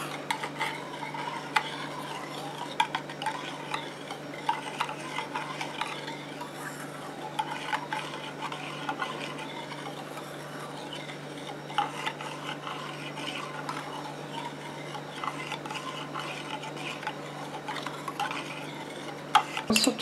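A homemade DIY liquid shampoo mixture being stirred, giving a soft, steady scraping and swirling against a container over low background hum, faint and continuous, with no talking.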